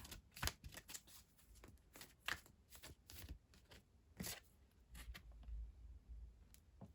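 Message cards are shuffled by hand in a series of crisp riffling bursts with short pauses between, close and fairly quiet, with no talking.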